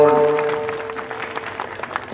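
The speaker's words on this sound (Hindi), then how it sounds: "ताली बजा के स्वागत करें।" Audience at a village Shrimad Bhagwat Katha gathering claps in welcome for an arriving guest, a dense patter of hands strongest at the start and gradually thinning out, with a steady sustained tone running beneath it early on.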